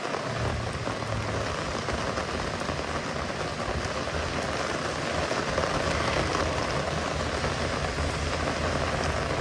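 Steady rain pours down outdoors in the open air near a Jeep in Colorado, a dense continuous hiss that stays loud and even throughout with no voices.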